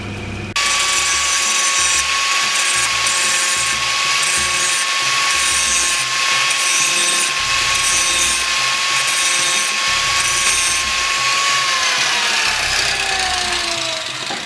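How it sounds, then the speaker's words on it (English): An electric grinder's wheel spins up with a high steady whine while a point is ground on a bolt for a homemade woodturning lathe, gritty rasping bursts of contact recurring, then the pitch falls away as it winds down, close and loud. "So I'm going to grind a point on this just like I did on the tailstock dead centre."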